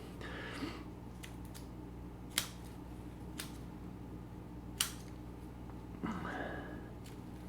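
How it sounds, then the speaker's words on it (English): Snips cut the central tap root of a Dracaena bonsai, giving a few sharp, separate clicks spaced a second or more apart against a quiet room hiss. "We're cutting that middle one out."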